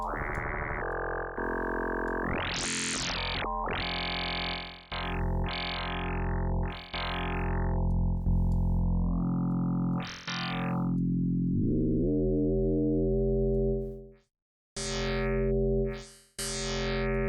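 A wavetable synth with FM modulation in Ableton Live plays alone, loud and bright, with sweeping pitch bends, stepped tones and a gritty, distorted timbre, broken by short gaps and a brief silence near the end.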